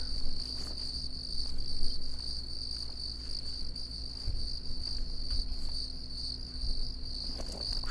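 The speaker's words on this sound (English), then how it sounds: "Crickets" Crickets in the African map of the hunting game The Hunter: Call of the Wild chirp in a steady, high, continuous trill over a low ambient hum, with faint rustles underneath and no talk.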